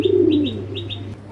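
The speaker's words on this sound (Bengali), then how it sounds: "এগুলো নেদারল্যান্ডের ব্লাডের কবুতর" Racing pigeons of Netherlands bloodline coo nearby, a low throaty coo opening the sound, with a few short higher chirps over a steady background hum.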